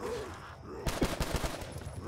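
Rapid burst of video game gunfire starting partway through, a string of quick close shots after a brief lead-in of game ambience.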